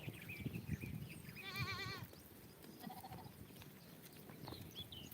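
A single quavering sheep bleat rings out clearly, followed by a fainter bleat, over a quiet outdoor background.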